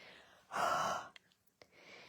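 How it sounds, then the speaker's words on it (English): A breathy huff onto a rubber stamp inked with Stampin' Write markers: one broad, loud exhale of about half a second, followed by a few faint clicks and soft handling noise in a quiet room. "You'll hear me breathing on this. This is called huffing, and it re-moistens everything so we're ready to go."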